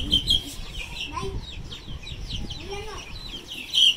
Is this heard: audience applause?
no